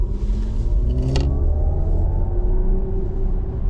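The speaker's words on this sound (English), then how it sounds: "And we'll do a little acceleration here to see how that feels." Mercedes EQS 450+ electric car accelerating, a smooth rising whine over low road rumble from inside the cabin, steady and continuous with a brief clink near the start.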